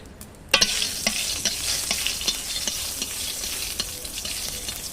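Dried red chilies hit hot oil in a pan with a sudden sharp burst of sizzling, followed by steady frying crackle and scattered stirring clicks.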